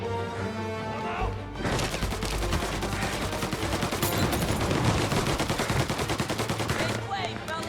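Rapid gunfire in the video game Mafia: Definitive Edition, a dense sustained burst of loud automatic shots rattling continuously for several seconds, with game music underneath.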